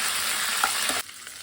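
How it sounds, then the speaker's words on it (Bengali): Cumin, ginger and chili paste sizzle in hot oil with pointed gourd in a pan, a loud steady frying hiss that stops abruptly after about a second, leaving quiet. "এখানে আমার মশলাটা ভাজা হয়ে গেছে"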